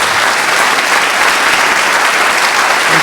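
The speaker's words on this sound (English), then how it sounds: "give him a round of applause" A college audience gives a loud, sustained round of applause during a speaking event, a dense continuous roar of clapping from many hands filling the whole stretch without pause.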